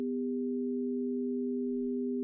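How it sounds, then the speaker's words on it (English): Two steady sine tones synthesized in SuperCollider, a lower louder one added beneath another, sounding together as a constant pure hum with no variation. "let's make another sine wave, which is maybe a little bit lower and a little bit louder"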